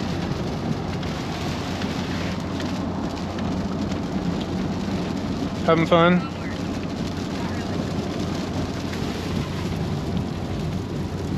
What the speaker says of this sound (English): Nothing but more rain.